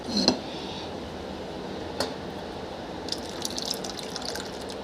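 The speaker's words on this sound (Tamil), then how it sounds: "இப்போ குக்கரில் கொஞ்சமாக ஒரு அரை டம்ளர் அளவு ஊற்றணும் தண்ணி ஊற்றி அலசிட்டு ஊற்றணும்" Water runs and trickles into a metal pressure cooker, with a clink of cookware at the start and a splashy pour toward the end.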